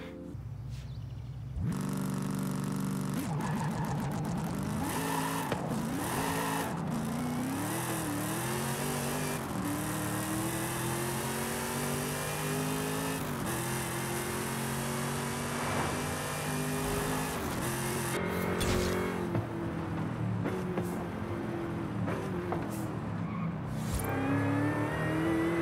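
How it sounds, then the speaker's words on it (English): A Hennessy Camaro Exorcist supercharged V8 engine revs hard and loud in Forza Horizon 5, pitch climbing and dropping through shifts, with tire skids and a car rushing past. "that supercharged V8 sounds amazing"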